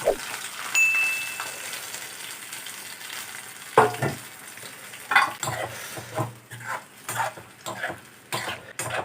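Kandanakaya (snake gourd) curry with a bay leaf stirred in a pan, with soft frying sizzle and occasional clinks and scrapes of a utensil against the pan, quiet and close, no talking.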